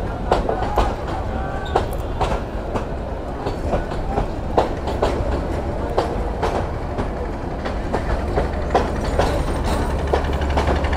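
A train rolls past on railway tracks near Tejgaon, a loud, close, continuous rumble with rapid, repeated clickety-clack wheel beats over the rails throughout.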